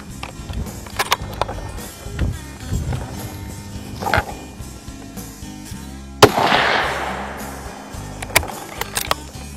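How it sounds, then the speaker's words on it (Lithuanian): A rifle cartridge with a 980 m/s muzzle velocity and 1550 joules of energy is fired at a shooting test. One sharp, loud report rings out with a lingering, decaying tail, surrounded by scattered small clicks and handling noises. "kad padarom pirmus šūvius"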